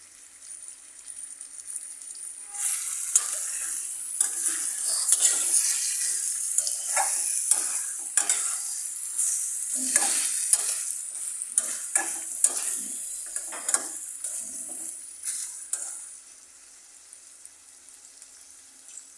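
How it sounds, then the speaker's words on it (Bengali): Snakehead fish masala sautéed in a pan over raised heat: steady close sizzling with repeated scraping and stirring strokes through the thick spicy mixture, fading slightly toward the end, no talking. "এবার আমি এটাকে ভালো মতো কষিয়ে নেব।"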